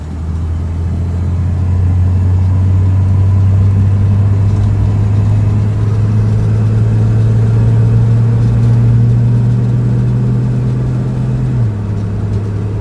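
A 1968 Ford Mustang cruising down the road, its engine a loud, steady low rumble from inside the car that holds an even drone throughout.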